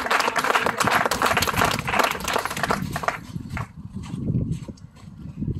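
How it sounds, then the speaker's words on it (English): Church congregation applauding as a woman walks up to testify, a dense wash of many hands clapping that thins out and softens after a few seconds, with scattered claps continuing to the end. "Let's give Janet Archibek a round of applause as she comes."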